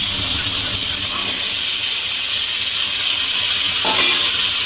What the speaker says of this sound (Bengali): তারপরে আমরা যে সিদ্ধ করে রেখেছিলাম বাদামগুলো, এই বাদামগুলো এই আলুগুলোর মধ্যে দিয়ে দেব।